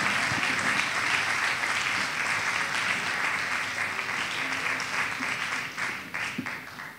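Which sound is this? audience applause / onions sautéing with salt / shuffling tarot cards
audience applause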